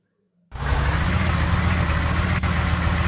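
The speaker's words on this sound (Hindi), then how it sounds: "जीप," A jeep engine idles close by in a steady, low rumbling chug that starts suddenly after a short silence and runs evenly, with no voices over it.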